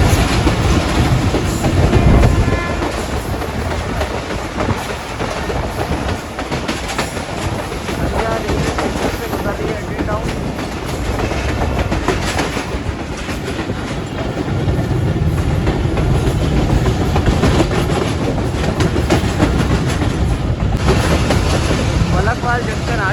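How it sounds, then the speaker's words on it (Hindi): Millat Express passenger train rolling along the rails in Pakistan, a loud, continuous rumble with rhythmic clickety-clack of the wheels, heard from on board with some voices faintly underneath. "भाउदीन से रवाना हो चुकी है 89 मिलक एक्सप्रेस"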